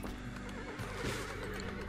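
A horse in the colony-building game RimWorld gives a short whinny over steady game background sound, with a faint clip-clop of hooves, brief and close.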